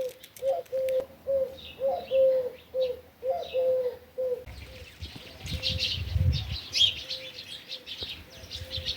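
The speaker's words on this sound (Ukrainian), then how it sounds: "Горобців на вишні багато. Прилетіли харчуватися до нас." Small birds, sparrows gathered in a cherry tree on a rural homestead, call in a steady run of short chirps and coos, with busier overlapping calls joining in the second half over a soft outdoor background.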